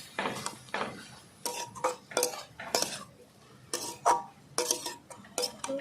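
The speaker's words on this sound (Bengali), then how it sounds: "এবার ভালো করে নাড়িয়ে মিশিয়ে নেবো সব কিছু একভাবে" Red amaranth greens being stirred in a cooking pot, with a string of close, irregular metallic clinks and scrapes of a spoon against the pot.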